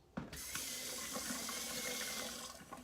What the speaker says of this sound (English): I'm going to try to keep the water turned down a little bit lower so I'm not like having to scream over it